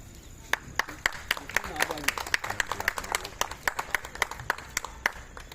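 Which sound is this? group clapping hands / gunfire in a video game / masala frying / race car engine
group clapping hands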